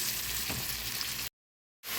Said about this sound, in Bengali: আদা রসুন এবং পেঁয়াজটা একটু বাদামি করে ভেজে নেব